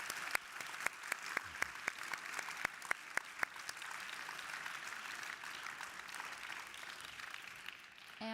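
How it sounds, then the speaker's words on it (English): Audience applause after a talk at a sustainability and climate change forum, a steady wash of clapping with a few sharp nearby claps standing out, heard from a distance before it fades. "A big round of applause."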